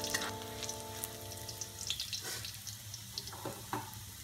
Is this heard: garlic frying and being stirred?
yes